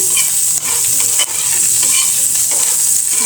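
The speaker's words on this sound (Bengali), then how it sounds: "অল্প পরিমাণে হলুদ দিয়ে ভালো করে ভেজে নিচ্ছি" Beef liver frying with a little turmeric in hot oil, a loud, close, continuous sizzle with short stirring scrapes, with no talking.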